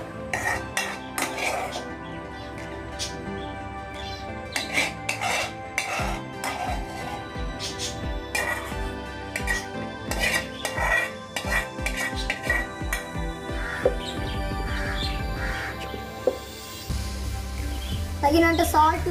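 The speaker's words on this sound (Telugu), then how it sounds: "ఇలా లైట్గా వేయించుకున్నవి పిండిలో కలుపుకుందాం" A spoon scrapes and clinks against a metal pot while lightly fried ingredients are stirred into dosa batter, giving an uneven run of close clatters and knocks with softer mixing sounds in between.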